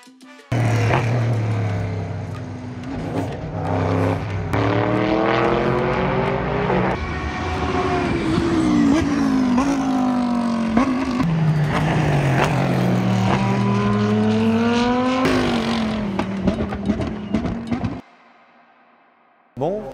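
Race cars with headlights on lap a circuit at dusk, engines loud and close, revving and sweeping up and down in pitch as they pass one after another for about eighteen seconds before cutting off.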